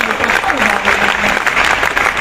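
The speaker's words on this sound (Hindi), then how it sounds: "जोर से एक बार बजा दिए ताली।" Audience applause in a Hindi-language invited lecture hall, a steady dense clapping from a crowd that holds for about two seconds, with a voice speaking over it.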